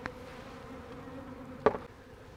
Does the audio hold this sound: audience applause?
no